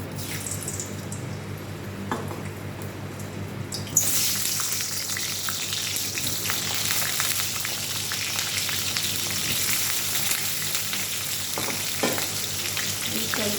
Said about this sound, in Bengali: দেখো আমি আলুটাকে ভেজে নিয়েছি লাল লাল করে